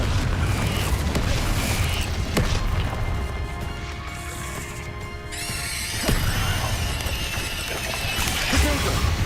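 Confringo explosive spell cast in Hogwarts Legacy, a booming burst amid dense combat effects, with a ringing magical shimmer rising midway before another heavy crash.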